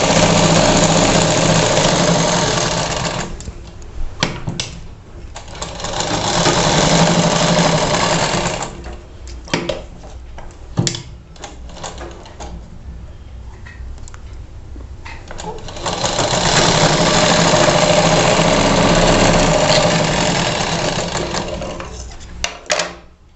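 A sewing machine stitches blouse fabric with long running stitches along a marked line, loud and close in steady mechanical bursts that stop and restart several times with short quiet gaps between runs.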